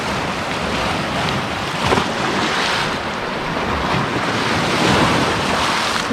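Waves rolling onto the pink-rock beach at Fish Cove on Lake Superior, a steady wash of surf with gusts of wind buffeting the microphone, no voices.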